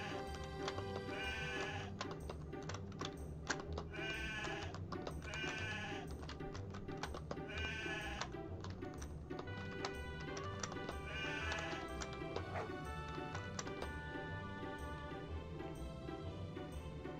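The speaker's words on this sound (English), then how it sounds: "There's only sheep here." Repeated sheep bleats from the video game Succubus Quest sound in short, evenly spaced cries over a looping game music track with plucked and percussive notes, steady and moderately loud throughout.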